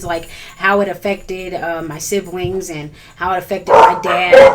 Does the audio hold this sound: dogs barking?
yes